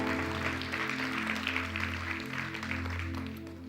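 A church congregation breaks into loud sustained applause, the clapping carrying throughout over a steady low musical drone.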